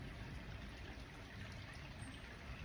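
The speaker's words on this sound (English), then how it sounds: "You can hear the water for this burn here" A small burn at Dunino Den, an ancient sacred site in Scotland, flows steadily with a soft continuous babble and trickle, faint and close, with no voices over it.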